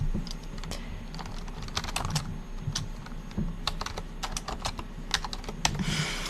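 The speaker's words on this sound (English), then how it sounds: "here he comes, stepping on the keyboard." A cat walks across a computer keyboard, keys clattering in irregular bursts and scattered taps under its padding feet, over a low steady hum.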